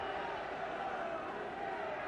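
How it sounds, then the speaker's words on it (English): Football crowd at the Goldstone Ground, Brighton, in heavy rain during a First Division match against Liverpool, a steady broad murmur of many distant voices rising slightly without distinct cheers, continuous throughout. "the crowd here at the Goldstone starting to wake up"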